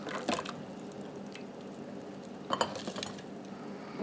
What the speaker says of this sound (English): What I'm going to do is I'm going to put the jalapenos over in the jars.